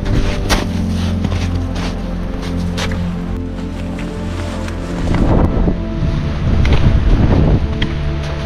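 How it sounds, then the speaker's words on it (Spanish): Strong wind gusts in mountain fog in the Sierra de las Nieves pinsapo forest, a steady roar buffeting the microphone that swells louder toward the end, with no voices. "Me está pillando un temporal fuerte de aire."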